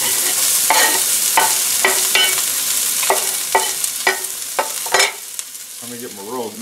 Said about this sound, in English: I got to put my onions in a skillet here.